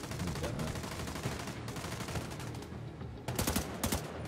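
Gunfire in The Division 2, rapid bursts of automatic shots, a sustained stretch followed by a sharper cluster of loud cracks near the end, heard amid game ambience.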